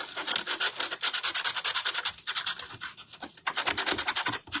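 An electric mouse sander grinds against wood in rapid rhythmic passes, loud and close, with brief pauses between strokes.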